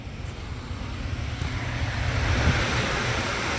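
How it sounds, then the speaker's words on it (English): A blower runs in a Rheem HVAC package unit with a faulty heat setting, producing a steady, broadband rushing airflow roar that swells slightly and stays constant throughout. "Still got our blower running."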